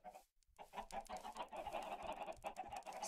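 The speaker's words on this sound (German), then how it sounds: "die Schafe und Hühner machen immer einen Heidenlärm" Chickens cluck in Minecraft, a busy farm pen of hens giving repeated short clucks in an uneven rhythm after a brief silent gap, fairly close and alone, with no talk over them.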